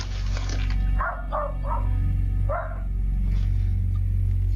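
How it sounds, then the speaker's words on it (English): A dog barks from behind a door, sounding somewhat muffled: a quick run of three barks and then one more, over a steady low hum with no talk. "A dog's yelling at him through the door like,"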